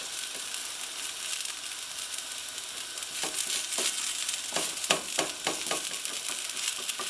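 Bubble and squeak, a leftover potato and cabbage fry-up, sizzles steadily in a pan, with a spatula scraping and turning it in the second half.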